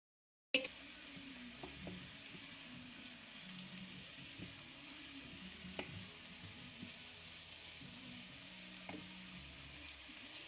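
Rice toasts and fries in a pan for leek risotto, giving a quiet, steady sizzle with occasional soft clicks and scrapes as it is stirred gently.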